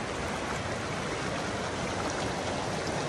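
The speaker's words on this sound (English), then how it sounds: "is to soak my feet in that nice cold water." Cold mountain water rushes in a stream, a steady, close broadband wash with no breaks.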